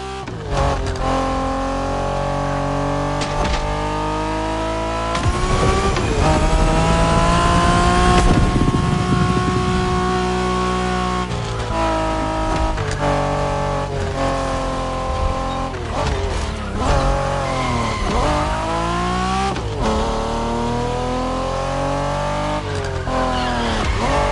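A Honda NSX driven hard in The Crew Motorfest, its engine revving up and dropping through repeated gear shifts, with tire squeal in places and occasional in-game voices over the loud, steady engine.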